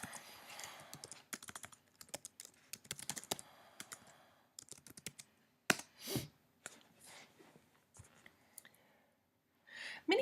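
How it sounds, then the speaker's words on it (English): Rapid bursts of clicking keystrokes on a computer keyboard as a search about polar bears and climate change is typed, irregular clusters of taps, close and fairly quiet, with a few soft breaths and no speech. "let's return to the search bar and we will type polar bears and climate change."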